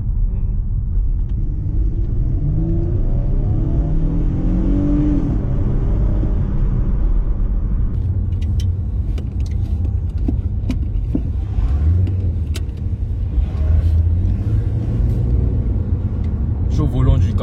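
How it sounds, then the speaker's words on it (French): Chevrolet Camaro RS V6 engine rumbling low and steady while driving on a rough road, with someone talking over the continuous cabin drone. "Je suis au volant du Camaro V6."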